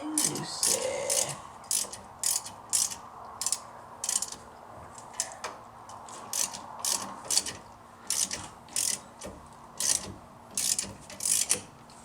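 A ratchet wrench works a 14 mm bolt on the brakes of a 1999 Jeep WJ, a rapid clicking pawl heard in repeated short bursts with brief pauses between strokes, close and clear.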